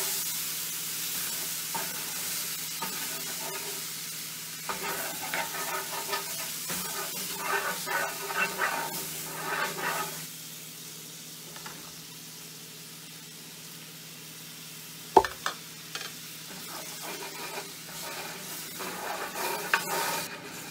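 Roux for turkey gravy being stirred in a shallow skillet on the stove, a steady sizzle with soft scraping strokes, louder and busier in the first half, quieter later with a few sharp clinks.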